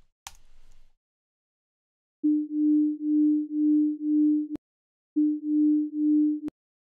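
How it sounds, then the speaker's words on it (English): Synthesized sine tone built in SuperCollider, a steady mid-low pitch with slow binaural beating that pulses about twice a second, heard in two sustained bursts separated by a short gap, clean and alone. "Let's make it with a lovely binaural beating."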